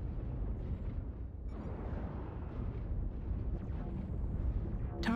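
Artillery strike explosions in the mech combat game MechWarrior Online form a continuous, heavy low-end rumble of blasts that rolls on throughout at a steady level, with no voices.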